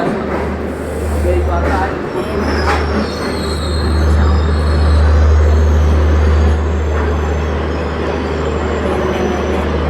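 Steady rumble of a train in motion heard from inside a carriage, with continuous low drone and occasional wheel squeal and rattles throughout, loud and close, with faint voices in the background.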